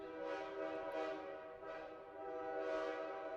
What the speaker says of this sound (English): They could hear train horns wailing through the city.